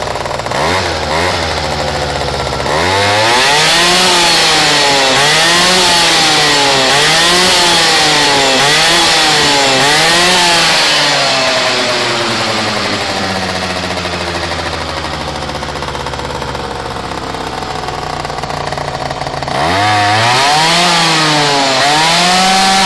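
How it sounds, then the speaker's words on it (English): Small Airsol T6 two-stroke engine fitted with a big bore kit and a Technegas exhaust, running loud and close with a buzzing, rasping note that rises and falls in repeated revving surges, then settles into steady idling before revving again. "Here's the Technegas exhaust. The Airsol T6, big bore kit, and here's what it sounds like."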